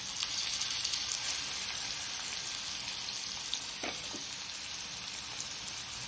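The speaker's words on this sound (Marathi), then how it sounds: "घोळीचा मासा फ्राय करतो" Ghol fish frying in a pan, a steady broad hiss of sizzling oil running throughout with a couple of faint clinks partway through, no voices.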